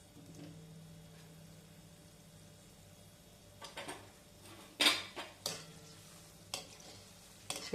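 Gulab jamun frying in a pan of oil and being stirred, a quiet sizzle with a few sharp metal spoon clinks against the pan toward the end.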